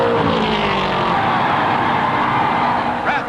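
Race car at the 1960 Indy 500 screaming past to take the checkered flag, a loud close engine roar with a falling pitch as it passes, ending in a brief squeal.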